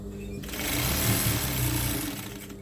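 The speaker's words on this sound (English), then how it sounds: "Then you start sewing as they are." Sewing machine stitching a pleat in a tablecloth, starting after a short pause into a fast, steady mechanical whirr at close range that eases slightly toward the end.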